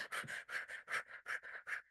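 Rapid rhythmic breathing from the breathwork practice: about nine quick, forceful breaths in two seconds, each a sharp airy huff, close and loud with no talking.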